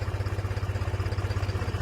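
A tractor engine idles with a steady, low, throbbing chug, close by and loud, its rapid even pulses continuing without any talk.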